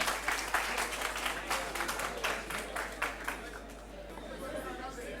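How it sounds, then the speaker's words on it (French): An audience claps for the last contestant at a school student competition in Chad, a lively patter of hands under a steady low hum, with crowd chatter mixed in. "On applaudit pour elle."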